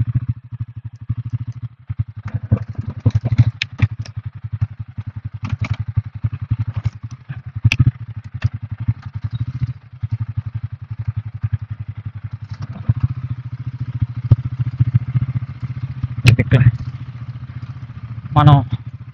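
A motorcycle engine-braking slowly down an off-road stretch of the Araku ghat hills, a low throbbing engine drone with rattling clatter and occasional thumps from the rough track, close and continuous throughout.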